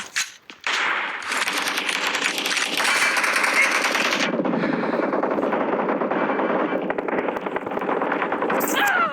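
Rapid automatic gunfire from a video game rattles loudly and almost continuously for most of the stretch, dense bursts with brief gaps, dominating the mix.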